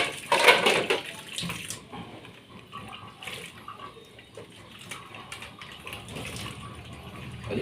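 Water from a tap runs into a bowl as dishes are put to soak, first as a brief loud gush and then as a steady, softer flow with light clinks.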